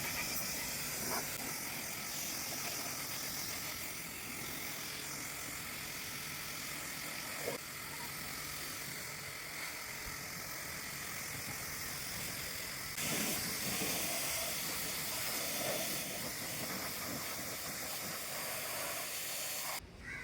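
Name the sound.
pressure washer spraying water to wash an Ola scooter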